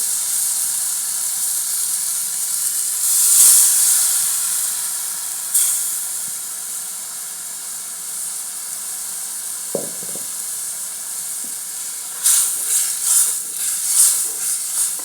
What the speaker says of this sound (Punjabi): ਹੁਣ ਤਾਂ ਕੁੰਡਾ ਧੋ ਕੇ ਪਾਣੀ ਪਾਵਾਂਗੇ